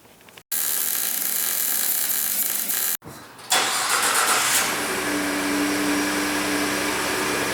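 A 1961 Ford F100 truck engine cranks, cuts out, then fires and settles into a loud, steady idle with rising mid-range engine roar, close by.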